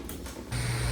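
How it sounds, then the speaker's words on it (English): A 3D printer runs nearby while printing a part, a steady mechanical whir with a low motor hum that rises and thickens partway through. "It's my 3D printer"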